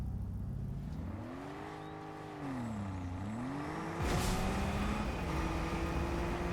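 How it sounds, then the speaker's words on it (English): A car driving up a hill in a video game, its engine droning and whirring as the pitch falls, dips and rises again, then climbs sharply in a steady acceleration, moderately loud and alone. "I think I'm going to take this car and drive up the hill."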